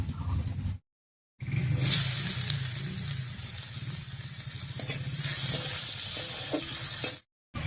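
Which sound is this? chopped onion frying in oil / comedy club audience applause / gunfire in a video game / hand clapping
chopped onion frying in oil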